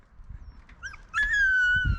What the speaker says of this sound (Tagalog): ay may aso pala dun.